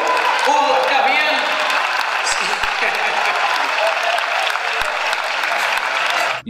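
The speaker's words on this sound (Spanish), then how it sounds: "fuerte, fuerte, fuerte ese aplauso para la agrupación La Tranca de Curamaral." Loud, continuous crowd applause with scattered cheers rises for a folk dance group performing malambo, with voices mixed in and the clapping holding steady until an abrupt cutoff.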